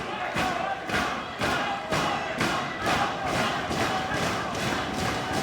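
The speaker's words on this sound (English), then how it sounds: "You hear the crowd really starting to get into this match." A professional wrestling crowd at a Ring of Honor match chants and stomps in a steady rhythmic beat, roughly two pulses a second, loud and continuous throughout the arena.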